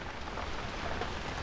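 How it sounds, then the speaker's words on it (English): Steady rain falls on a jungle at night, a constant dense wash of drops with no breaks, moderately loud and alone without any voices. "It is still raining."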